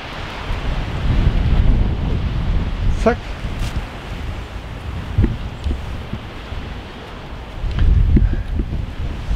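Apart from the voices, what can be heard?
wind blowing outdoors behind a house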